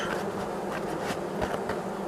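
Dense, continuous buzzing of many honeybees close by at a hive, a steady hum with individual insects passing near the microphone.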